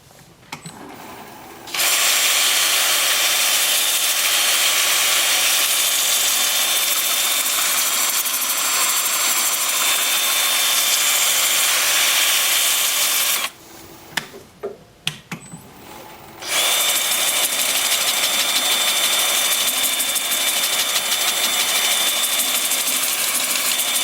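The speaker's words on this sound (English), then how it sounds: "With my 2-inch disc sander, starting at 80 grit and working up through 400" A small 2-inch disc sander whines steadily at high pitch while sanding wood for a long stretch, pausing briefly in the middle before starting up again, loud and close.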